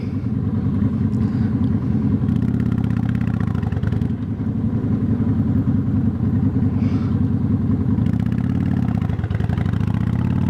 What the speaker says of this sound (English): this bike likes a lot of throttle to take off